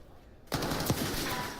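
Automatic gunfire from a Call of Duty esports match at a Major event with FaZe competing: a sudden loud burst of shots with one sharper crack, then sustained dense firing over game noise.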